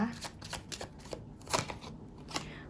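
Tarot cards are shuffled and slid out in a dense, close flutter of papery flicks and taps, with a soft voice speaking over part of the handling.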